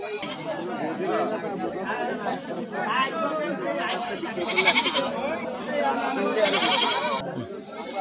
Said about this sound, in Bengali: এগুলো খামার করা উপযোগী ছাগল।